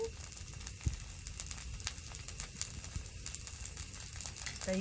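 Steady, close sizzling and crackling of Korean potato pancake batter frying in a hot pan, with small pops scattered throughout and no talking.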